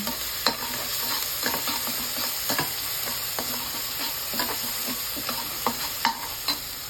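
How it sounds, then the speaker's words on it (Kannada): Green chilli, garlic and ginger frying with browned onion in a pan, a steady close sizzle broken by repeated scraping stirs at an uneven rhythm, with no talk. "ಇದು ಸ್ವಲ್ಪ ಹಸಿ ವಾಸನೆ ಹೋಗೋವರೆಗೂ ಹುರ್ಕೊಳ್ಳೋಣ"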